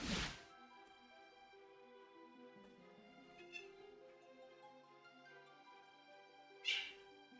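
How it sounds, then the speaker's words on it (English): A cat in the game Morrowind lets out a few short, plaintive meows, one at the start and one near the end, over steady tonal background music with no talk. "it's more like sad little meows"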